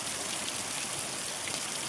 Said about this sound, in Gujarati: અત્યારે વરસાદ એ ચાલુ છે